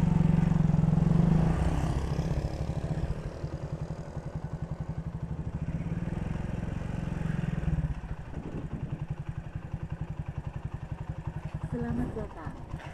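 A motorcycle engine runs steadily at night on the road to a hospital in Palimanan, Cirebon, its pulsing low rumble loud and close with some wind, shifting in pitch as it rides before slowing near the end.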